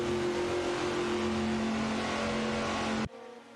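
A steady, loud engine drone from a race car in an AI racing game, such as a Saleen S7R or Ferrari 575 GTC, holds a constant pitch for about three seconds before cutting abruptly to a faint hum.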